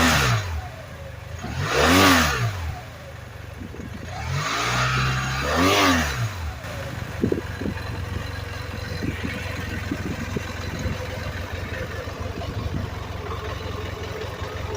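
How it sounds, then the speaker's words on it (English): BMW F800GT sport-touring motorcycle with its factory exhaust, revved twice in strong rising-and-falling bursts, then settling back to a steady idle. "I'll rev it up a little bit here and you can hear what it sounds like."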